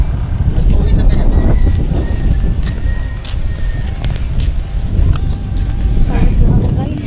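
Gusting wind buffets the microphone in loud, low rumbling surges that rise and fall, with faint voices in the background.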